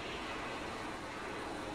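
A VTOL aircraft's engine drones in a video game, a steady, broad roaring hum with no breaks, close and continuous, with no voices.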